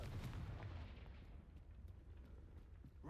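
A Confringo fire spell goes off in Hogwarts Legacy near a gatehouse, a heavy booming blast whose rumble fades over about three seconds into a low lingering roar.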